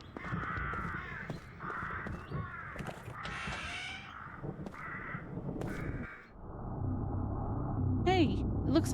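Crows caw several times in a Lost Odyssey game scene, with harsh calls scattered over a low rumbling ambience and someone talking over parts of it.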